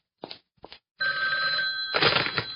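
A telephone rings in a bright, steady electronic trill after two short knocks or clicks, loud and close, with a brief noisy burst near the end.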